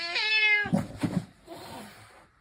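A house cat meows in one long, clear, drawn-out call up close, followed by a couple of shorter, softer mews at home near a shared kitty bed.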